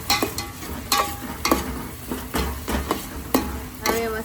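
Vegetables cook in a hot pan for Maggi noodles, with a spoon scraping and tapping against the pan in an uneven stirring rhythm over a soft, continuous sizzle close by.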